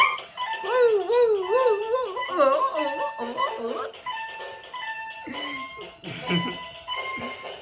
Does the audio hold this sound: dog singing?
yes